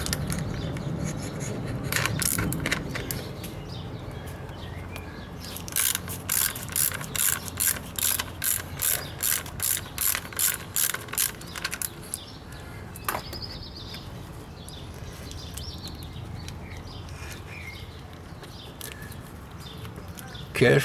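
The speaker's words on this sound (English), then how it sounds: "And now one screw, ratchet number 10." A size 10 ratchet backs out a screw on a Hyundai i20 camshaft sensor with a quick run of close, regular clicking strokes, surrounded by workshop handling noise and someone speaking.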